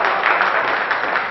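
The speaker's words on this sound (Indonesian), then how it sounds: "Tepuk tangan buat Bro Aziz." An audience at an Indonesian entertainment event gives host Bro Aziz a dense burst of continuous applause, close and loud, with many hands clapping at once and no voices.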